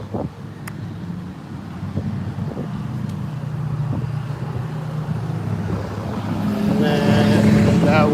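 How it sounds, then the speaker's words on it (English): A loud truck drives past on a city street, its engine noise building steadily and peaking near the end amid wind buffeting the microphone and other traffic rumble. "that loud truck drives by me"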